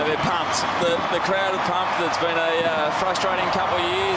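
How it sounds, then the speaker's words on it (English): Fireworks go off at Metricon Stadium as the Gold Coast Suns celebrate their first win. Sharp bangs pop at irregular intervals in the background beneath a commentator's voice and crowd noise. "you can hear the fireworks going off in the background"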